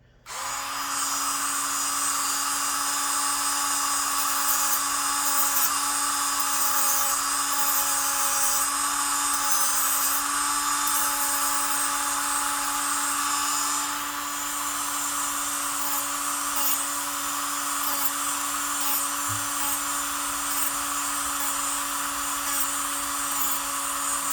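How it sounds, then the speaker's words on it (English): A steady high-pitched whine of a Black & Decker RTX rotary tool with a sanding drum sanding a Stoeger STR-9 pistol backstrap, running continuously and close up, with a slight dip in pitch partway through. "we've got our rotary tool here. This is a Black & Decker RTX. Sanding drum on there."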